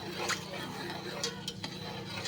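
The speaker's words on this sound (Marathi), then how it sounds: "आता हे मी जरा असंच दोन मिनटं हलवून घेते" Gulab jamun dough made with khoa being stirred in a pan, a continuous close scraping and soft sizzle with a few brighter spoon scrapes along the way.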